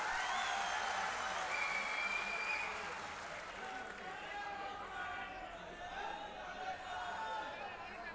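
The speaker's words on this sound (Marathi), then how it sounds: "जोरदार टाळ्या वाजवून स्वागत करा" Crowd at a Maha Vikas Aghadi political rally in Amravati applauding loudly, clapping massed and sustained with chatter mixed in, easing slightly after the first few seconds.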